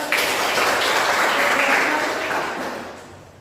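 A classroom of students claps together for a few seconds, a dense, even patter of applause that tapers off at the end.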